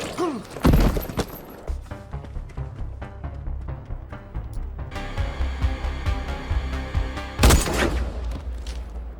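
Gunfire rings out in a film as David kills two drug dealers: sharp shots cracking at the start and a loud blast near the end, with a dense mix of rumbling action noise and score in between.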